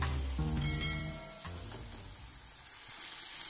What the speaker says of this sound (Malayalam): എണ്ണയിൽ നന്നായിട്ട് മുരിഞ്ഞ് വരുന്നുണ്ട്